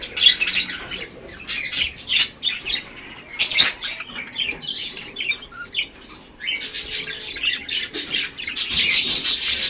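Pet birds in a backyard aviary chirp and squawk close by in busy, irregular bursts, with short quieter gaps between flurries of sharp, high calls.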